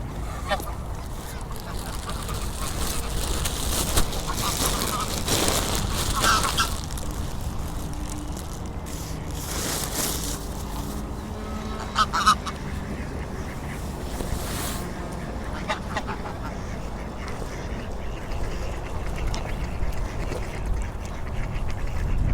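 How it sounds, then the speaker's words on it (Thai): Geese honking and quacking repeatedly outdoors in Iceland, with a steady wash of wind or water noise underneath throughout. "อันนี้ห่านนะคะ"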